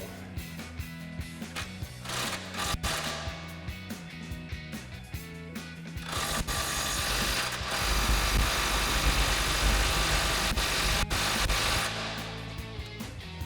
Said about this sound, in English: we've got our cordless impact and a 14mm swivel socket snaked up in here